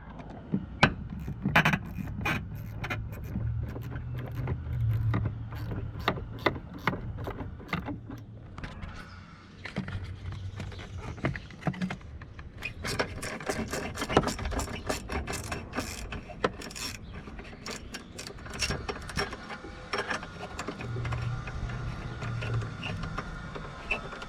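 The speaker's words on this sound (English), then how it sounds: "Let's take our ratchet again. Now what we're gonna do, we're gonna loosen these things." A hand ratchet loosens the battery bolts on a Mitsubishi Outlander, giving rapid close clicking in repeated bursts with short gaps and some metallic handling noise between strokes.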